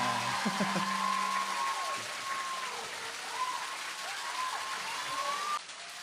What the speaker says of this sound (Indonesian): boleh ke saya dengar kuat sikit tepukan tu?